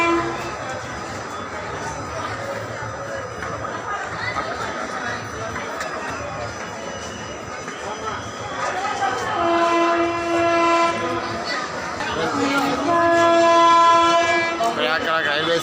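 Train at a busy Indian railway station at night: a steady rumble of rail noise and crowd bustle, with tonal horn-like whistles rising loud near the end and voices running under it.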